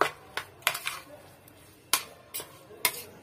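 Ingredients for osban being mixed by hand in a bowl at home, giving sparse, sharp clinks and soft knocks with quiet stretches between them, close up and fairly faint.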